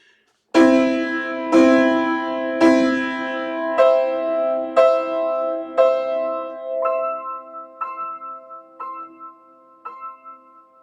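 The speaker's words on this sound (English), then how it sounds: "that far right pedal is going to make it sound like this" Piano chords struck one after another with the sustain pedal held, about ten in a steady rhythm, each ringing on and blending into the next as the sound gradually fades.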